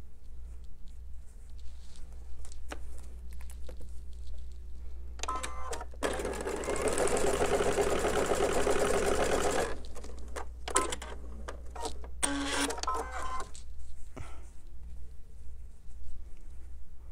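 A sewing machine stitches a seam joining quilt fabric pieces, including navy blue corner fabric, in a steady whirring run of about four seconds, with shorter bursts of stitching and clicks before and after.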